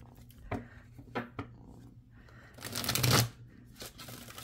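Tarot cards shuffled by hand in a few short riffling bursts, building to a louder, longer riffle near the end, close and clear with no talking.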